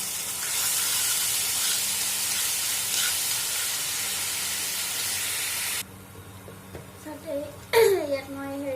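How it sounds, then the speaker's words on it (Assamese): Onion and tomato paste hits hot mustard oil in a wok with a loud, steady hiss and sizzle for several seconds. It then drops off, leaving softer crackling, and a voice is heard near the end. "কেৰাহীখন তেল গৰম হ'ল, মই ইয়াত পিঁয়াজ আৰু বিলাহীৰ পেষ্টটো দি দিছোঁ।"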